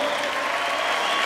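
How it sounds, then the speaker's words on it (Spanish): Applause from the crowd at the end of an amateur boxing semi-main event bout in Bariloche, steady dense clapping throughout at a moderate, slightly distant level with no pauses. "Fuerte el aplauso"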